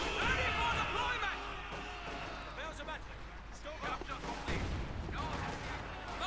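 Gunfire and artillery crack in bursts during a Company of Heroes 2 one-versus-one match, mixed with other battle effects. A commentator talks continuously over the fighting.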